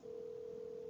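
In a video game, a phone line gives a steady, unbroken dial tone that stays level and fairly soft from start to finish as a call goes out to a psychic.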